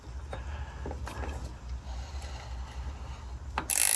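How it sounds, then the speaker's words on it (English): An oil filter wrench being fitted onto the oil filter of a Toyota 4Runner during an oil change gives close metallic clicks, ratcheting taps and scrapes at irregular intervals, ending in a louder, harsher rattle. "so now is when I put the filter wrench on, making sure that it lines up properly."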